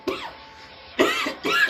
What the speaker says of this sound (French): Je tousse, je ne sais pas pourquoi.